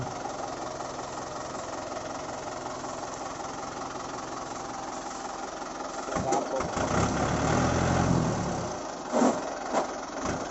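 A vehicle engine idles with a steady low rumble, rising to a louder rev midway before settling again, while voices speak nearby.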